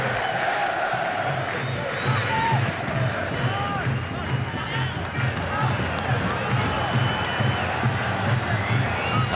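England supporters in a packed stadium crowd at the 1998 World Cup against Argentina in Saint-Etienne, a dense steady roar with shrill whistles rising above it throughout, loud and continuous.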